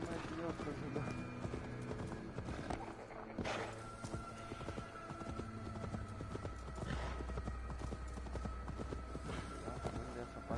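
Horse hooves clip-clop steadily in a video game under almost constant talk from a player, with a brief whinny partway through and background game music.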